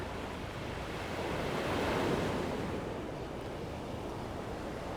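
Ocean waves roll and wash in a continuous, broad surf roar with some wind on the microphone, swelling slightly in the middle, heard alone with no talking.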